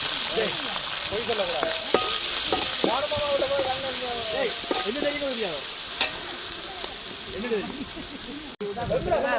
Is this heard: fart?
no